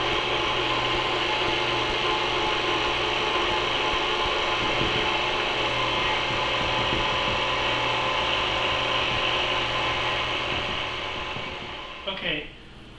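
Stand mixer steadily beating wheat bread dough with added flour, a continuous even motor whir with rhythmic churning that runs loud and unbroken before winding down near the end.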